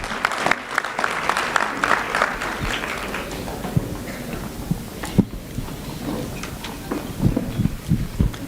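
Crowd at a school annual day award ceremony in Nairobi applauding winners, a steady wash of clapping that thins out midway, then a few scattered louder claps and a brief rise again near the end.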